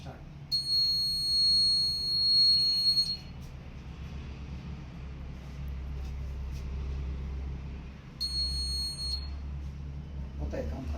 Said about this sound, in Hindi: वो वाइब्रेशन सेंसर वाइब्रेशन डिवाइसेस पे फीडबैक भी देगा और बजर भी बजाएगा